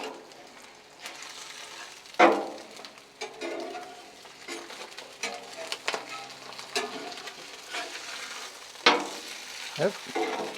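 Spam and eggs fry on a Blackstone griddle with a steady sizzle, broken by a few sharp scraping and flipping knocks of a metal spatula against the flat top. No one speaks.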